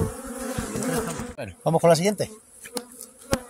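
Honey bees buzz close by at a beehive in a newly set up apiary, a dense insect drone under someone speaking Spanish, then louder buzzing bursts once the talk stops.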